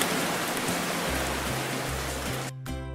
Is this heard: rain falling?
yes